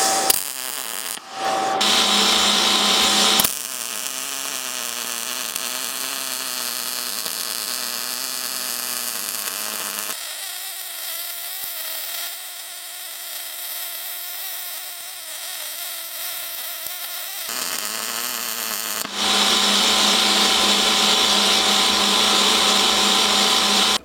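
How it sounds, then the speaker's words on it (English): Welding a joint: a sustained buzzing, humming electrical drone with a steady tone, starting with short bursts, then running continuously for about twenty seconds with a quieter middle stretch, near and loud, no speech. "So I'm pretty happy with that speed, so we'll weld that."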